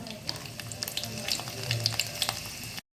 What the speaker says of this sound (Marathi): तेल तापलं आहे आपल्या त्याच्यात लसूण टाकूया